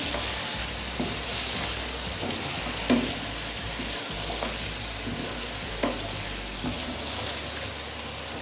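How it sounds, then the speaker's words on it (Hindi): Mutton karahi fries steadily in a pan, a continuous sizzle broken by occasional stirring scrapes and soft clinks, close up and with no voices. "हमारी जो मटन कढ़ाई है वो अच्छे से भून रही है"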